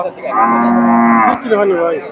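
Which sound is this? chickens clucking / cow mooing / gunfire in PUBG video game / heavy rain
cow mooing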